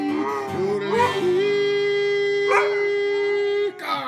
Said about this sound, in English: that's the prettiest singing you ever heard a dog do in your whole life